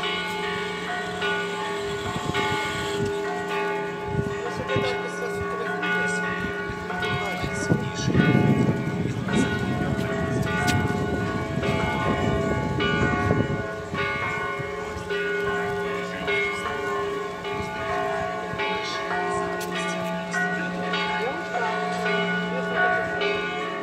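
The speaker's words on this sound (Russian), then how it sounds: "там вверху такой колокол" A church bell at St. Nicholas Church in Truskavets rings repeatedly at a distance, its tolls blending with outdoor background noise and a voice talking faintly in the middle.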